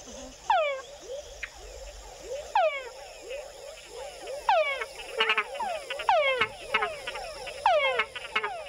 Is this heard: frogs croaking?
yes